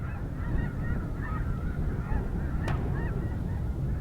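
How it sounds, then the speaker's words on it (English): A flock of snow geese honks continuously at a distance at Frank Lake, overlapping calls over a low rumble of background noise, with one brief sharp click. "there were a bunch of snow geese there"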